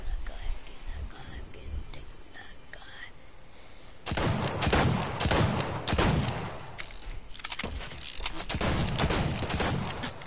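Fortnite gunfire rings out as a dense burst of rapid shots, with weapons cracking loud and close from about four seconds on and continuing in heavy volleys, with a voice faintly underneath.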